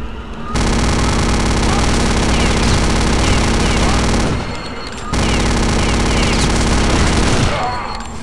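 Venom chaingun fire in Return to Castle Wolfenstein, a loud, continuous mechanical roar of rapid shots that runs in two long bursts with a short break between them.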